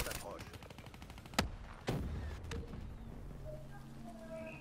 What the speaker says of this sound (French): Je tire au hasard et ça fait des hits.